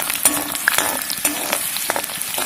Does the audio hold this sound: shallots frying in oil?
yes